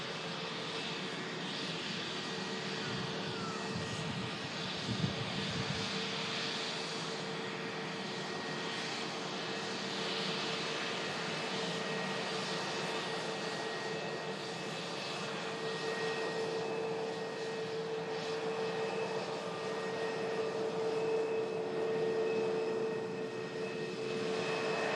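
A Scandinavian Airbus A320neo jet departs Manchester Airport with a steady, loud engine roar and whine that builds and holds across the whole stretch, with no talk over it.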